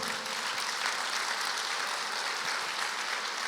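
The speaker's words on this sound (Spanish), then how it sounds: "Den un aplauso al Señor, por favor" Congregation applause at a Spanish-language church service, a steady broadband wash of clapping that holds at an even level throughout, with no distinct voices rising above it.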